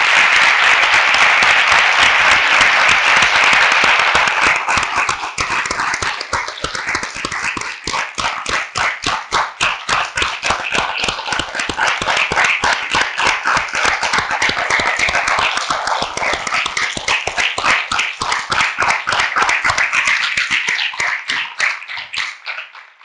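Conference audience applause that starts as a dense, loud wash of clapping, then settles into a long run of rhythmic, unison claps in a steady beat before trailing off at the end.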